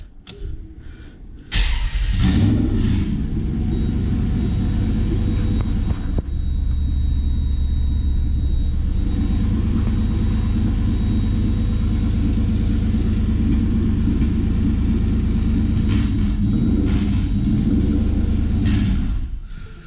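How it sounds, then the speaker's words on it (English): A project car's engine cranks and catches, then idles for a long stretch with a rough, slightly fluctuating rumble and a few revving swells, close and loud with no talking. "So I'm just gonna start up the car so that you hear it idle."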